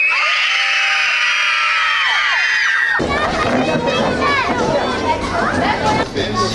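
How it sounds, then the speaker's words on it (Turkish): A theater audience at a show for earthquake survivors screams together on a count of three, a loud sustained shriek of many voices that breaks into mixed shouting and chatter. "Şimdi hep beraber bakın öyle bir çığlık atacağız ki bütün oteller duyacak."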